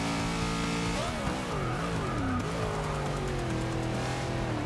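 A car in a racing video game revs hard in second gear as its tires break traction, the engine note sweeping up and down loudly and continuously with a squirrely, slipping edge.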